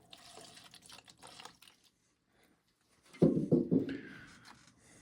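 Liquid fuel is poured into a Vargo Triad multi-fuel stove, with faint trickles and handling noises first, then a short, louder burst of splashing pouring near the end, close up.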